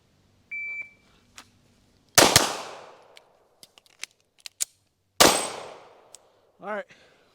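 Pistol shots from a Staccato CS crack sharply on a range, two loud reports with ringing decay about three seconds apart, separated by scattered small clicks and metallic taps, with a short electronic beep near the start and a brief sound near the end.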